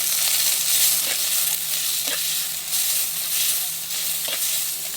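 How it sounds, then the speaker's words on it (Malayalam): Sliced onions with salt sauté in oil in a pan over a wood-fired stove, a steady close hiss of frying with occasional stirring scrapes, no voices. "അതിലേക്ക് സവാള ഇട്ടിട്ട് നല്ലതുപോലെ ഒന്ന് ഉപ്പിട്ടിട്ട് ഒന്ന് വഴറ്റി കൊടുക്കുന്നുണ്ട്"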